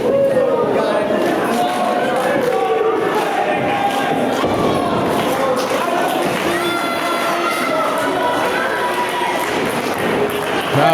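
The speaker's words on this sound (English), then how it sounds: "Crowd still solidly," Loud, sustained crowd noise from a live professional wrestling show, a steady roar and cheering that fills the whole stretch, with a commentator's voice talking over it.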